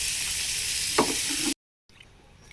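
Elephant foot yam and prawn curry with garam masala being stirred in a pan over a gas flame: a loud, steady sizzle with a spoon scrape, then a sudden cut and a quieter hiss afterward.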